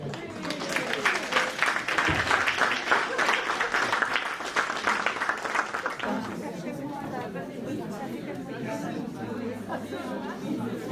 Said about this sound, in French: Et je vous remercie une fois encore d'applaudir